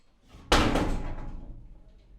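A door forced open with a single loud, sharp bang partway through, followed by a rattling, decaying crash, no talking.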